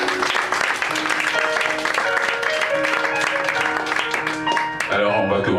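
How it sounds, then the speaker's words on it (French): Audience applause at an evening poetry reading in French, a steady wash of clapping filling the room throughout, with music-like tones running underneath. "les applaudis, mesdames et messieurs."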